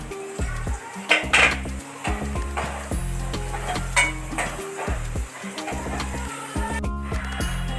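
Tomatoes tipped into a pan of softened onions while cooking pav bhaji, giving a steady close sizzle with scraping stirs and clinks of a utensil against the pan for several seconds, no talking.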